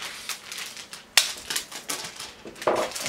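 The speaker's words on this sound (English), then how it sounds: "Exacto knife. All right, so let's go ahead and cut this open." An X-Acto craft knife slices open tight packaging from a Samson tug model project, giving scattered scratchy taps and one sharp snap up close, with no voices.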